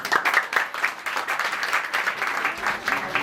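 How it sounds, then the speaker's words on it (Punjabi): A church congregation applauds during a prophet's birthday service, many hands clapping in a dense, continuous burst that stays fairly even throughout, with faint voices mixed underneath. "ਤਾੜੀ ਮਾਰਾਂਗੇ ਯਿਸੂ"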